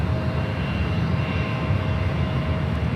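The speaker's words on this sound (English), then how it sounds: "Next arrival is Delta Flight 1088 coming in from Salt Lake City," Delta Airbus A319 airliner arriving at San Francisco airport from Salt Lake City, its engines making a steady, broad roar that holds evenly for the whole stretch with no talk over it.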